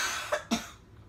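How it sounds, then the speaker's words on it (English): Two quick, close coughs in a row from a character in GTA 5, sharp and brief, followed by quiet. "I've been coughing a lot."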